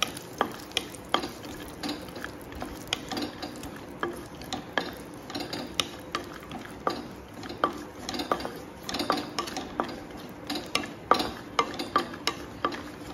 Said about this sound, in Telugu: కిస్మిస్ ను కూడా వేసుకొని లైట్ గా ఊరికే అటు ఇటు ఒకసారి తిప్పేసి వేరే ప్లేట్ లోకి తీసేసుకుందాం